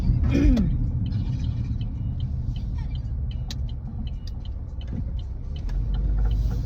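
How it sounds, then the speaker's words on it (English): Inside a car driving along an ordinary road, a steady low rumble of tire and road noise fills the cabin at a moderate level, with only faint scattered clicks above it. "I am currently driving like usual."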